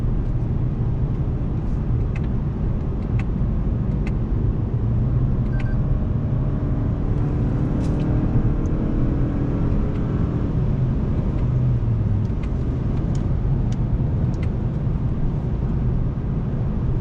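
A 2018 Toyota Camry drives along with a steady engine and road drone heard from inside the cabin, the engine tone shifting slightly midway as it downshifts, with faint clicks and no talking.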